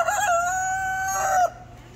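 A rooster in the poultry barn at a county fair crows once, loud and close, its long call rising and falling before ending abruptly, followed by faint barn ambience.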